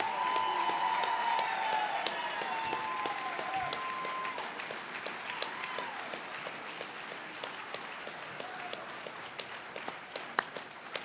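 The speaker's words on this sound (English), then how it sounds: "Big round of applause for all these callers" Crowd applause and cheering at the Grand National turkey calling championships, clapping that starts over a loud tone and announcer's voice and thins into scattered, distant claps and crowd noise.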